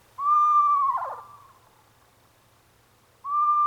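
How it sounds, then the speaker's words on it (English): Two long, wavering hooting whistles from an owl, the first ending in a rough trill, separated by a quiet pause; clear and fairly close. "That's a screech owl."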